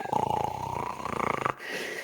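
Loud, rhythmic snoring through a closed door, a rasping drone repeating in quick pulses before cutting off abruptly.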